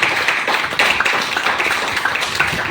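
An audience at a business seminar bursts into loud, dense applause, many hands clapping fast and steady throughout the short burst.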